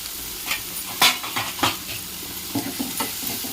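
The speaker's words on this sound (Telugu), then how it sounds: "ఇవన్నీ వేసేసి ఇలా కలిపిద్దాం" Spices, chili powder, garam masala and egg masala, being stirred into a sizzling egg curry in a pan, with several scraping spoon strokes over a steady low fry, close and moderately loud.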